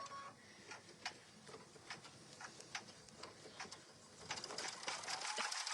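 A sewing machine stitches a fabric notebook cover, a quiet steady mechanical whir broken by small clicks and ticks, growing a little louder near the end, with no talking.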